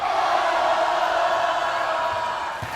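Frisch school crowd at a high school basketball game yelling steadily to distract a free throw shooter, a loud, sustained roar of many voices in an indoor gym.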